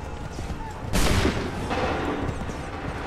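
A musket volley erupts in Assassin's Creed III, a sudden loud crack of massed gunfire about a second in, followed by a second wave of shots and rumbling battlefield noise that lingers to the end over a steady low din.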